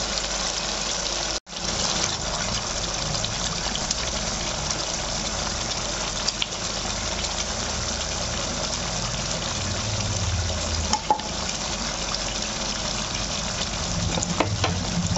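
Fish pieces being added to boiling yogurt gravy for doi katla, a steady close bubbling and sizzling simmer under a constant stove hiss, with a brief clatter near the start and small clinks later.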